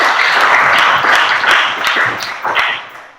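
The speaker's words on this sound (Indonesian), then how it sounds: "berikan tepuk tangan dong" Classroom applause from students at a school lesson, a dense, steady patter of many hands clapping close by for about three seconds, tapering slightly toward the end.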